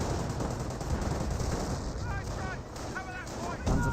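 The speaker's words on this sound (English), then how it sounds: "Rifle grenades are firing away, getting some damage there onto these grenadiers." Rifle grenades fire in the Company of Heroes battle against grenadiers amid continuous gunfire and thumping blasts, with a commentator speaking over the steady combat noise.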